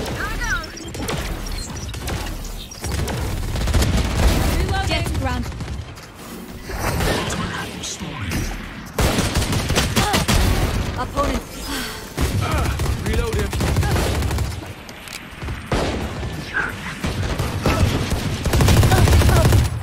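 Rapid gunfire bursts in the video game GTA 5, repeating through a dense, loud mix of in-game mechanical and crash noises, with a voice faintly present at times.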